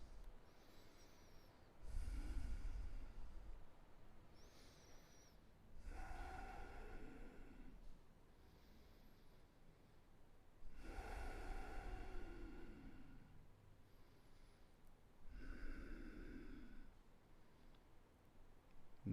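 Deep, slow yoga breaths held in warrior two pose, each long inhale and exhale rising and falling in a quiet room, about four full breath cycles spaced evenly and close to the microphone.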